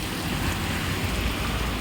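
Heavy rain pours down in a steady, dense hiss at close range, loud and continuous throughout with no pauses or other sounds standing out.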